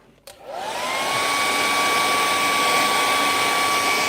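A hair dryer drying acrylic paint switches on after a click and rises quickly to a steady, loud whine and rushing airflow that holds constant, close by and with no talking.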